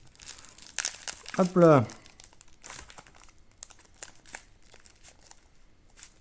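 A package of Pokémon cards is torn open, with a loud burst of crinkling wrapper and a few smaller rustles around it, under intermittent talk.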